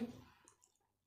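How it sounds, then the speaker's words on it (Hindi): One quiet click of the left-hand button on a Lavrider wireless microphone, a single short tap close up that decays quickly into near silence. "इस लेफ्ट हैंड साइड के बटन को वन टाइम क्लिक करेंगे"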